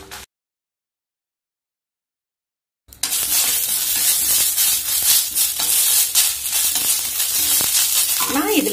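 Ingredients for lemon-leaf idli podi roast in a dry pan, with stirring scrapes and a soft sizzling hiss that starts after a near-silent gap and continues steadily up close.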